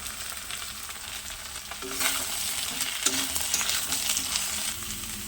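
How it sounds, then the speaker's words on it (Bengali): Young ridge gourd cut into long strips frying with ground ginger and spices in a pan, a steady sizzle with stirring scrapes, close and moderately loud, no talk. "মশলাটা ভাজা হয়ে গেছে, দিয়ে দিচ্ছি দেখুন লম্বা লম্বা করে কেটে নিয়েছি একদম কচি কচি ঝিঙে"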